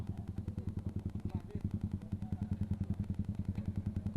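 A Yamaha Vixion or R15 V3 motorcycle idles close by with a steady, rapid thumping engine pulse while being pushed along, the rhythm continuing evenly throughout.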